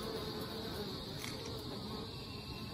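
Bees from an Anel hive buzz steadily in hot sun, a faint continuous drone with no speech over it.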